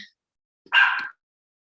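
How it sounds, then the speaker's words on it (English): One sharp, close dog bark, loud and short, in an otherwise quiet room. "my dog keeps barking."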